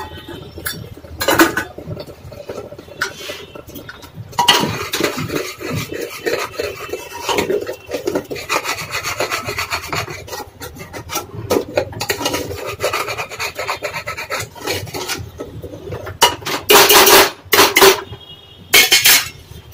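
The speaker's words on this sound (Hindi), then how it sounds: "मसाले को हम अच्छे से भून रहे हैं इस तरह से।" Ground masala of turmeric, Kashmiri red chilli, salt and coriander powder roasting in a pan for matar paneer, with a spoon repeatedly scraping and stirring across the metal in busy rasping strokes, some louder bursts near the end, no talk.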